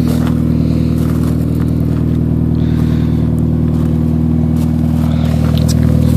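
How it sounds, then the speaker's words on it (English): A Mitsubishi Lancer Evolution 9 engine runs through a JIC Magic Type 2 full titanium oval catback exhaust with a resonator, producing a loud, sustained droning note that holds steady with slight swells and no talking. "this is my new exhaust system. It's a JIC Magic Type 2 with an oval muffler."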